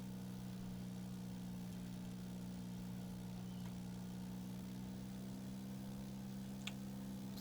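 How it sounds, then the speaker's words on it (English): Steady aircraft engine drone from the X-Plane 10 flight simulator during circuits at East Midlands, a constant low hum with no talk. "that engine noise though"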